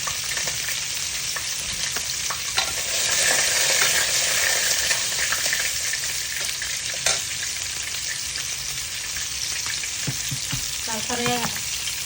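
A bay leaf fries in hot oil in a pan as a rohu fish curry with green tomato gets started, giving a steady, loud sizzle with a few brief louder crackles and spatters near the end.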